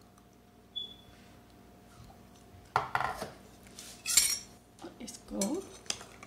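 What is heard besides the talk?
mixing marinated chicken with spoon in bowl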